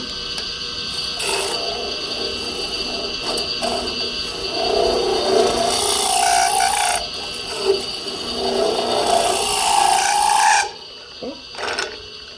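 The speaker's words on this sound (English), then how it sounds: "We come in with a little 1/2-inch scraper." A half-inch scraper cuts wood on a lathe, giving a raspy scraping whir that swells and fades in passes over a steady motor hum, ending with a few brief knocks as the cut stops.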